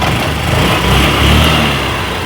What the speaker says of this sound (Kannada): ಸಿಂಗಲ್ ಸೆಲ್ಫ್ ಮಾಡ್ತೀನಿ, ಬೈಕ್ ಸ್ಟಾರ್ಟ್ ಆಗುತ್ತೆ.